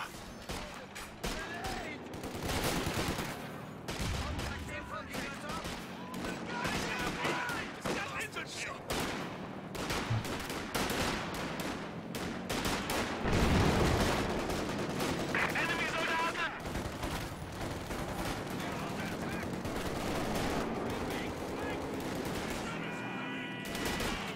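Machine gun fire and other gunfire rattle through a Company of Heroes 2 battle, with dense, continuous bursts and scattered explosions layered over a busy wartime soundscape, while a commentator's voice runs beneath the action.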